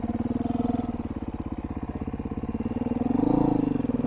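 A Beta 500 dirt bike engine thumps steadily and close while riding through a deep spot, its pulsing idle-like beat swelling briefly near the end.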